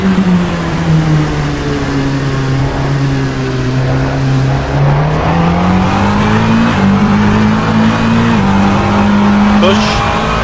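LMP2 race car in Assetto Corsa, a loud, sustained engine drone that rises and shifts through gears, with tyre noise and a voice talking over it.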